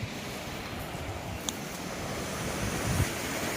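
Water flows steadily below hillside houses in Valparai, a broad continuous rushing wash mixed with wind buffeting on the microphone, with a faint click partway through.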